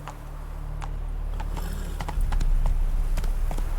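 Roach, the horse in The Witcher 3, galloping with rhythmic hoof clops over a low steady rumble, the pace growing louder and heavier midway.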